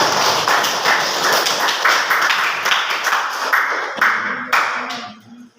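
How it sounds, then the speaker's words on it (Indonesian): A classroom of students claps for a student group after a presentation, a burst of lively clapping that holds for several seconds before thinning out and stopping. "Ya, tepuk tangan untuk kelompok"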